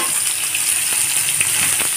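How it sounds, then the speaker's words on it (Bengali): Potatoes fry in oil over a high gas flame for a snake gourd dish, giving a loud, steady, close-up sizzle and hiss with a few faint clinks beneath it. "আলুটাকেও হালকা ভেজে নেব"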